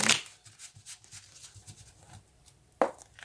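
Tarot cards shuffled in a cramped space: a sharp riffle burst at the start, light scattered card ticks and rustles in between, then another short, louder riffle near the end.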